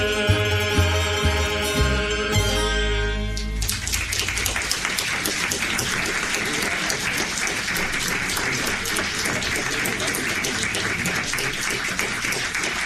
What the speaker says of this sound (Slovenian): Ja da vam tako lijepo ploskate